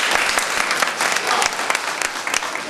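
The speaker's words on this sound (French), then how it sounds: "Ça mérite vraiment encore une grande acclamation." Loud, dense applause from an audience at a French company event promoting new managers, many hands clapping close by in a continuous burst with a few sharper individual claps standing out.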